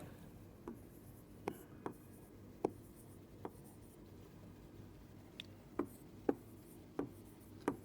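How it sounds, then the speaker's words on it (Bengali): Pen strokes scratch across paper in short separate bursts, several quick marks with pauses between, close and fairly quiet over a low room hum while a vector physics problem is worked out by hand. "তাহলে আমি লিখে ফেলি"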